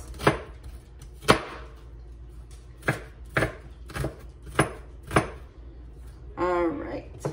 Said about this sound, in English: Now I'm making small cuts here. Small slices that will end up with small minced onion for us.